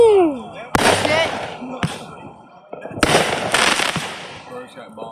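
Several loud fireworks bursts go off at a backyard display, sharp booms with crackling tails coming in two clusters, a whistling rise before the first, with people talking and exclaiming between them.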